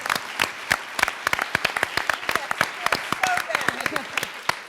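An audience at an artists' congress meeting breaks into scattered, uneven clapping, sharp individual claps from a modest group, with faint talk mixed in.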